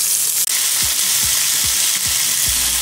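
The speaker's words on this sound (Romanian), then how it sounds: "Așa, deci le-am prăjit la foc maxim." Beef fries in a pan at maximum heat with a loud, constant sizzle right up close. A series of soft, evenly spaced low thumps runs under it as the meat is stirred or moved.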